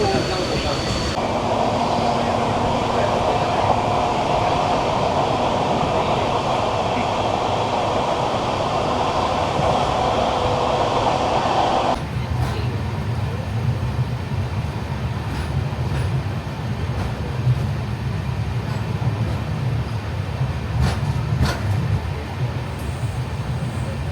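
Ernakulam–Bangalore Intercity superfast express with LHB coaches running, a steady loud rolling rumble throughout, with the tone shifting partway through as the train continues.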